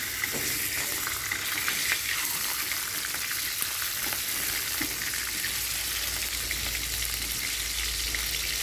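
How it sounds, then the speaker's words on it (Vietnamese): Pork pieces fry in hot oil in a pan, a loud, steady, continuous sizzle and crackle with no talk. "để thịt lên chiên"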